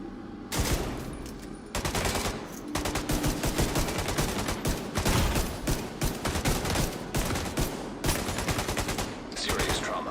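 Rapid, dense gunfire from a firefight in The Division 2, with pistol shots among many overlapping bursts that pound on almost without pause, loud and close.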